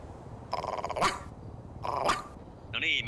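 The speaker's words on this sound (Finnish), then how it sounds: "Täällä on koirakin." A dog on a wooded event site barks in two short bursts, fairly close, followed by a brief higher yelp or whine at the end, with no talking over it.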